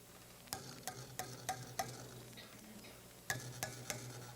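Tomato sauce from an 8-ounce can is stirred in a pot, a spoon knocking the sides in a few sharp clinks and scrapes spread over several seconds above a low steady hum, with a faint sizzle beneath.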